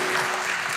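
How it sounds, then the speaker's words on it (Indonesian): A church congregation applauds during a worship sermon, a dense, steady wash of clapping that fills the whole short moment at close range. "Beri tepuk tangan bagi Tuhan."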